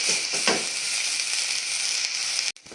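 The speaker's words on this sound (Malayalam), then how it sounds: "ഒന്നും കൂടെ ഇളക്കി ഒന്നും കൂടെ ലൈറ്റ് ബ്രൗൺ ആകുന്നവരെ ഇരിക്കട്ടെ." Onions with curry leaves sizzle steadily in a pan while being stirred for semiya upma, a loud continuous frying hiss with a few stirring scrapes early on and a brief drop near the end.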